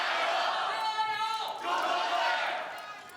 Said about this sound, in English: Now that's how you start a cheer